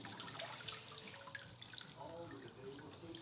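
Faint water running into a sink while dishes are washed by hand, a steady low rush with small splashes and clinks, no talking.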